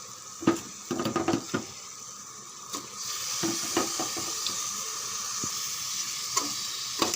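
Chicken pieces drop into hot oil for biryani: a few clattering stirs and spoon knocks, then a steady, close sizzling hiss of frying that fills the rest of the clip.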